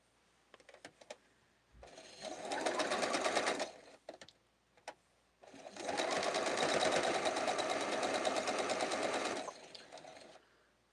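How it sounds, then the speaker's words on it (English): A sewing machine stitches quilt blocks in two long steady runs, the first shorter and the second longer, separated by a pause with a few small clicks; the whirring is close and alone. "this unit gets sewed all together"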